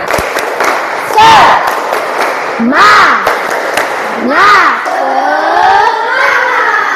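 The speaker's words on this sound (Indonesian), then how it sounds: "Yo, semuanya tepuk semangat." A school class performs a rhythmic spirit clap, with sharp group claps in bursts broken by loud rising and falling chanted shouts from children's voices, close and energetic.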